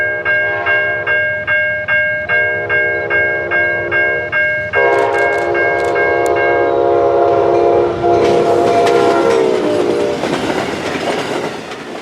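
A CSX freight train passes in Tampa, Florida, its horn sounding in a series of short, evenly spaced blasts, then a long loud sustained blast over the rising rumble and clatter of the passing cars, close and loud.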